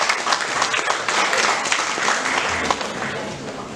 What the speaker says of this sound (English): Please everyone, welcome her with a big round of applause